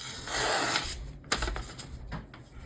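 Gerber Assert knife slicing through thin paper, a brief dry rustle and crisp tearing swish up close, followed by a few lighter scraping strokes.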